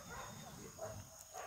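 Dogs bark and yip in short, faint bursts from a distance, with a low murmur of voices and room noise running underneath.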